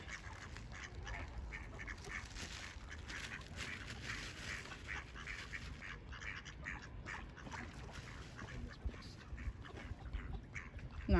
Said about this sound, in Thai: เป็ดวิ่งกินขนมปัง